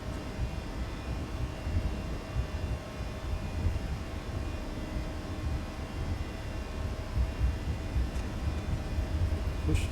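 Engines of a Toliss A319 airliner in X-Plane 12 run at takeoff thrust, a continuous broad roar with a low rumble and steady hum that holds level and builds slightly, with no talking.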